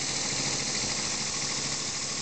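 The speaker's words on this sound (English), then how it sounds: "It's an absolutely filthy engine to run" A small elbow engine running on compressed air at about 40 psi, open-valve design splashing oil, giving a steady dense whirring hiss at constant loudness without talk.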